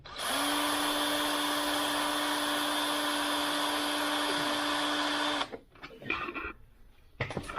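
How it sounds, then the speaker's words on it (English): A power drill drilling through metal whines steadily at a constant high pitch for about five seconds, then stops, followed by brief clattering and shuffling. "See how hard this drills."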